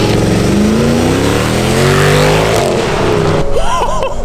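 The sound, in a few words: V8 car engine revving, heard from outside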